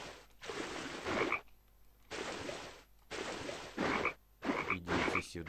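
Frogs croaking in the video game Tasty Blue, several separate bursts of raspy croaks with short gaps between them, close and clear with no talk.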